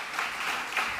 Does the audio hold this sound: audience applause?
yes